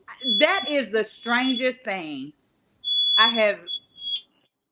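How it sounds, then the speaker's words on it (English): A smoke alarm goes off inside a house, a steady high-pitched electronic tone that sounds in two long stretches while a person talks over and between them. "That's my fire alarm."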